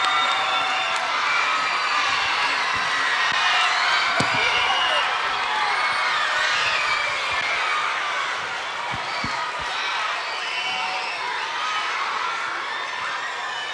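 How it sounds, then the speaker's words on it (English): A large school audience of fifth graders bursts into sustained applause and loud cheering, a dense continuous roar of clapping and shouting children filling a gym or auditorium at a Black History Bowl event, with voices calling out throughout. "give a huge round of applause for, don't you think? Mr. Washington, for all that he did"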